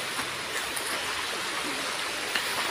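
Floodwater rushes steadily through rural farmland as someone wades into it, a dense, continuous watery hiss close by with small splashes breaking the surface.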